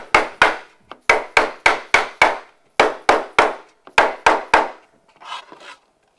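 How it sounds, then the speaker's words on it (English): Sharp, loud hammer blows on a wooden dovetail joint being knocked together, 19 inches wide, in uneven bursts, roughly seventeen strikes close up, ending with a few softer taps; no speech. "Don't just keep hammering on one side because you'll twist those tails"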